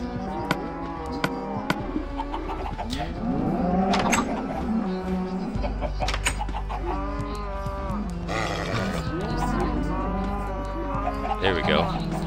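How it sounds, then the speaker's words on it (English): Cows moo again and again in a Minecraft farm, their low drawn-out calls overlapping over a steady background hum, some near and loud, others softer. "My cows have outgrown their pen."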